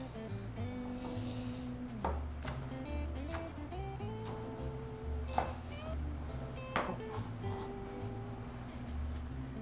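Knife chopping chives on a cutting board, a string of soft, irregular cuts sounding close by under steady background hum, with no talking.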